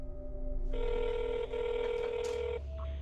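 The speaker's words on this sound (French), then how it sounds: "Maintenant, il faut appeler Prophète." A telephone call is being dialed, producing steady electronic tones that hold, shift once and then stop, fairly close and unaccompanied by speech.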